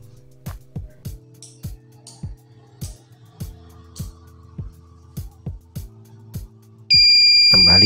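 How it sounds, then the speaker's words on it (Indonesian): An EGS002 inverter board buzzer alarm triggered by under voltage, sounding as a steady series of short regular beeps over a low electrical hum, ending in a louder continuous tone. "Kembali terjadi under voltage dan buzzer berbunyi."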